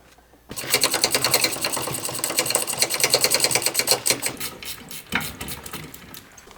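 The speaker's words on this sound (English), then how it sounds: "Removing caliper." A brake caliper is removed from a 1977 Toyota SR5 pickup: a tool chatters in a fast, loud, even rhythm for several seconds close by, with a short pause before it resumes.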